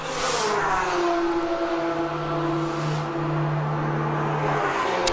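A Lamborghini race car in qualifying at Mugello circuit rumbles down the straight past an empty grandstand, a loud sustained engine drone with a rising pitch, heard alone.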